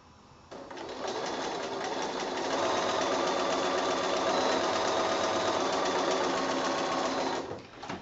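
A sewing machine stitches a jungle giraffe quilt in one steady, continuous run of several seconds. It is fairly close, rising from a quiet start, with no talking.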